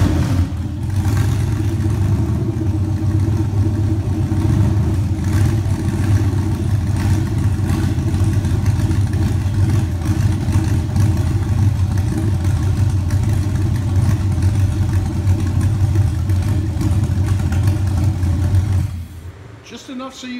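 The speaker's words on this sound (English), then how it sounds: "I want to definitely listen to the idle at this." A Chevy LQ9 Vortec Max V8 fitted with a Stage 1 cam idles close up, a loud, lumpy, steady rumble with a choppy cam loping that runs unbroken before cutting out near the end.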